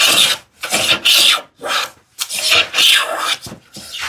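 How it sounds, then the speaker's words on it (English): Hand plane shaving wood on a hand-tool shoe tidy build, loud close rasping strokes in a steady rhythm of about six passes separated by short pauses. "Plus planing is fun."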